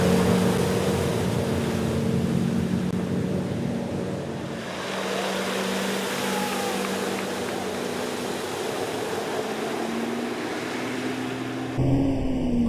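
A tow boat engine revs at a night finals round of a pro waterski competition in Oxfordshire, a loud, close, droning motor whose pitch shifts and climbs, dipping briefly midway before surging again near the end.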